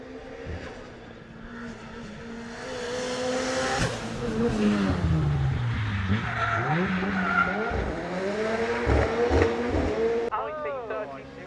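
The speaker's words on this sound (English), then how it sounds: "Drift car incoming." A drift car at a supercar festival slides past with loud, wavering tire squeal and skidding over a revving engine that rises and falls, with people talking in the background.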